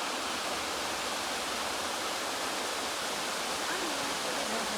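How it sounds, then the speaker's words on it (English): Water spills over a low wall or dam at Bear Tree Lake, a steady broadband rush of falling water that stays constant and fairly close, with no break in the flow. "You can see the water spilling over at least."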